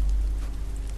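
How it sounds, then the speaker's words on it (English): Steady rain in the video game The Walking Dead, a continuous broadband hiss of falling drops that stays even and moderately loud for the whole second, with no voices. "This rain will turn to sleet, then ice, then snow."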